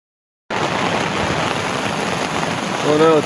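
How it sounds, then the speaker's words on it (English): After a brief silence, steady rain starts up and pours continuously during a thunderstorm at a Dumoine campsite, a dense hiss with a faint tonal sound creeping in near the end. "now it's raining. And thundering and lightning"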